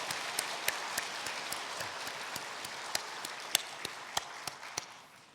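A church congregation at Sunday worship applauds the choir: a steady bed of moderate clapping punctuated by sharper, closer individual claps, tapering off at the very end.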